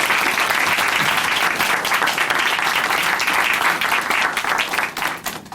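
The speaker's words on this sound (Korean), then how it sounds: "다시 한번 큰 박수 보내드리겠습니다." Loud, sustained applause from a church broadcast audience, dense hand clapping close by that holds steady for several seconds before tapering off at the end.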